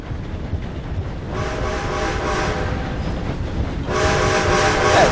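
Passing train in Red Dead Redemption 2: a loud, steady rumble of rolling rail cars with rhythmic clatter and bright metallic rattling, swelling again near the end, with no talking.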